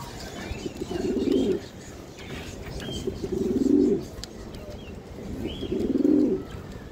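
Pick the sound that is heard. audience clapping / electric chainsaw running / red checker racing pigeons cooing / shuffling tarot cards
red checker racing pigeons cooing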